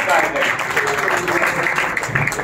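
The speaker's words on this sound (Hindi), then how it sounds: "सब तालियां बजाकर धन्यवाद देंगे" Audience clapping continuously at a felicitation during a legal awareness camp at a senior college, steady and dense throughout with a faint voice underneath.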